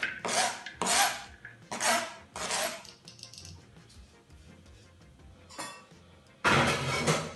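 Onion, coriander and chili are stirred together in a dish in short, scraping strokes, several rasping bursts in a row with brief quiet gaps between them.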